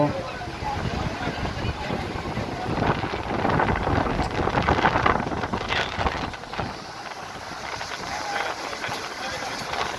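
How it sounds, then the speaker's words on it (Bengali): Strong cyclone wind roars and buffets the microphone near a broken embankment in Tazumuddin, a steady rushing noise with light drizzle, while someone talks over it. "প্রচণ্ড বাতাস বইছে গুড়ি গুড়ি বৃষ্টি পড়ছে"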